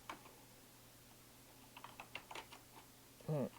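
Scattered light keystrokes on a computer keyboard, a few soft taps clustered in the middle, then a brief louder thump near the end, faint and close with no talk.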